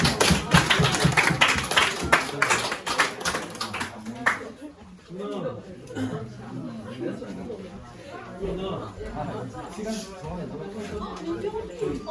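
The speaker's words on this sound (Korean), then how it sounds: "자, 박수 부탁드리겠습니다." A church middle and high school youth group bursts into dense, lively clapping for about four seconds, then the applause fades into indoor chatter and people talking.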